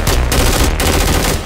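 A rapid burst of gunfire, loud and close, with sharp shots rattling in quick succession for a second or so.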